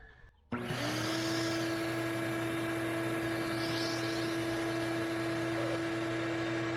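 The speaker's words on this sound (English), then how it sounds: "Decided to get the vacuum all set up." A vacuum cleaner switches on after a brief quiet moment, then runs loud and close with a steady motor whine over a broad, constant rushing roar that holds evenly to the end, with no talking.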